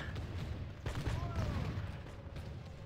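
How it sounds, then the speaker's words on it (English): Musket infantry volley fire in the Total War video game, heard as a dense rumbling crackle of distant shots that swells and then fades, with a few faint tonal battle sounds mixed in. "And now we are beginning to fire."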